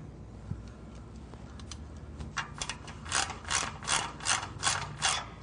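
A hand ratchet clicks in quick repeated bursts while tightening catalytic converter bolts on a car during an exhaust repair, the pawl's ticking growing steadily louder and more rhythmic toward the end.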